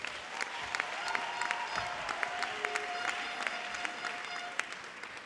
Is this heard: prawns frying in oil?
no